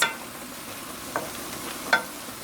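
King oyster mushrooms, the base for vegan scallops, sizzle quietly in a pan as they are stirred back in, with a soft steady hiss broken by two brief utensil scrapes.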